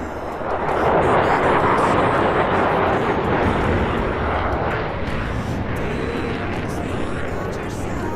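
A Su-27 jet in the DCS flight simulator roars through a slow-speed recovery pass at an air show, a loud, steady broadband engine rush that swells and holds, with a voice commentating over it.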